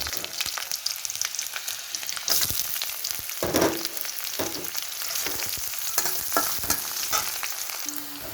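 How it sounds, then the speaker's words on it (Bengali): Chopped onion and whole garlic cloves fry with chili in hot oil, a steady close sizzle broken by repeated scraping stirs of a spatula against the pan, with no talking. "দিয়ে ভালোভাবে নাড়াচাড়া করে পেঁয়াজ আর রসুনটা আমি ভালোভাবে ভেজে নেব"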